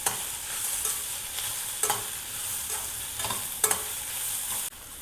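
Cashews and grated coconut sauté in a hot pan for an egg paya masala, a continuous sizzle with periodic scraping strokes from a spatula stirring them.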